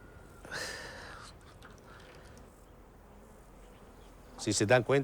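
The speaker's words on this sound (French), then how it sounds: "Écoutez bien, les abeilles qui bourdonnent sont des apis." A faint, steady drone of Apis honey bees hums throughout, with a brief noisy burst early on and a louder, higher-pitched voice-like sound near the end.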